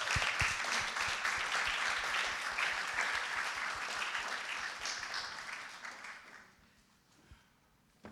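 An audience at a poetry slam claps for a performer, a full round of applause with clear individual claps, then fading out to near quiet near the end before a brief final sound.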